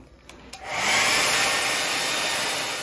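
A hair dryer blowing on the hair of a 1/4-scale Michael Myers slasher statue, starting after a couple of clicks and ramping into a loud, close, steady whooshing hum that continues to the end.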